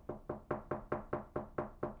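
Knocking on a door, a steady run of eight or nine sharp raps evenly spaced at a brisk pace, close and clear with no talking.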